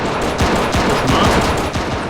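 Dense gunfire in a Second Italo-Ethiopian War 1935 mod of a strategy game: loud, rapid overlapping rifle and machine-gun shots rattle continuously for the whole stretch, with no voice over them.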